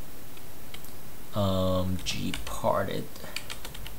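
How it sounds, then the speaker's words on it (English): A computer keyboard clicks in a quick burst of keystrokes as a command is typed, heard faintly in a quiet room with brief speech nearby. "I'm going to type sudo"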